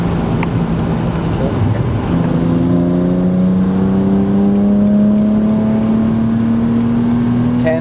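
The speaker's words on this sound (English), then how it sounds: "You hear this exhaust really sing when Jordan gets up in the upper RPMs." A BMW 135i with standback and turboback exhaust revs under about 10 psi boost. The loud, continuous exhaust tone climbs steadily in pitch over several seconds, with road and cabin noise underneath.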